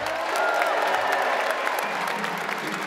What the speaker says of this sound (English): Let's cheer it for Ipswich.